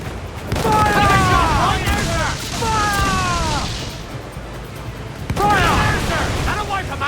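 Ship cannons fire in Assassin's Creed 4: Black Flag, heavy booms rolling in a loud, dense battle din, with shouting voices heard over the gunfire.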